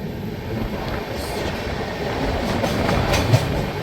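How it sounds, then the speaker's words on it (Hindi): The Jhansi-Kolkata Pratham Sangram Express passes on the Kanpur line with a continuous loud rumble of rolling wheels and faint rhythmic clatter throughout. No one speaks. "ये जो ट्रेन है ना सामने जो कानपुर लाइन की तरफ जा रही है, ये है झांसी कोलकाता प्रथम संग्राम एक्सप्रेस।"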